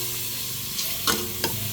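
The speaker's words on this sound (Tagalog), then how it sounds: "Sunod na natin itong manok at saka pusit." Chicken and squid stir-fried in a pan give a loud continuous sizzle, with two or three brief clanks of a utensil stirring through it.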